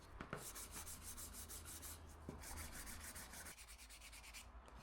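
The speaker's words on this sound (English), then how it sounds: "then I hand sand everything to a 180 grit" Hand sanding of wood with 180-grit sandpaper, a steady continuous rubbing rasp that stays close and fairly quiet throughout, with a few brief knocks and no talking.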